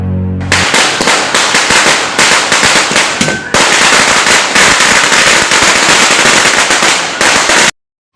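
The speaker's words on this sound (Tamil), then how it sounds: "பட்டாசு வெடிச்சாதான்ப்பா தீபாவளி மாதிரி இருக்கு" Firecrackers burst in rapid, dense crackling volleys during Diwali celebrations, loud and nearly continuous for several seconds before cutting off abruptly.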